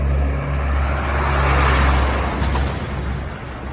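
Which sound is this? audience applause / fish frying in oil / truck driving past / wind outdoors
truck driving past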